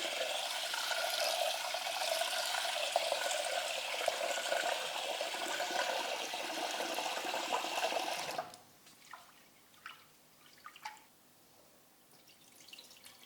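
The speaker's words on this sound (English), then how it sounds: "we're going to wash the rice to get all the starch off." For about eight seconds, water runs and swishes over long grain rice being washed, followed by quieter scattered drips and light splashes.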